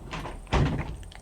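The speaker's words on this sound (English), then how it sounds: "just a sliding door" Caravan sliding door being slid shut, ending in a single solid thunk as it closes, near and moderately loud.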